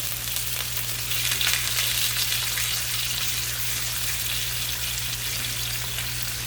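Chicken pieces for creamy Tuscan chicken fry in a pan, giving a steady, dense sizzle that swells briefly then holds level, with a low hum underneath and no talking.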